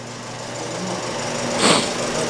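A Fiat 500 1.4L engine runs steadily just after starting, a close, even idle hum with a slight mechanical buzz and a brief swell near the end.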